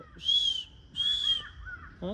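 Two clear caws from a crow nearby in the Nashik area, each a drawn-out harsh call, followed by fainter calls and a short whistle-like cry.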